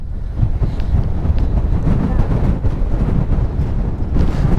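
Strong wind roars and buffets steadily while riding a motorcycle on the road from Lete to Kagbeni in Mustang, Nepal, a loud, continuous low rumble close to the microphone throughout.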